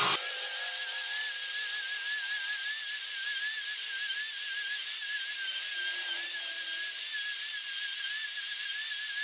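A rotary tool grinds down a cork to fit a PVC flute, giving a continuous, close, high-pitched whine with a slightly wavering pitch that holds steady for the whole stretch, with no talk.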